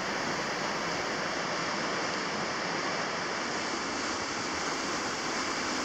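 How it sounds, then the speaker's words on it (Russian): Rapids on the Voloma River in Karelia, a steady, powerful rushing roar of white water filling the whole clip at constant loudness, with no voices. "Бешеный поток буквально тебя выносит из порога, при этом особо не забрызгав."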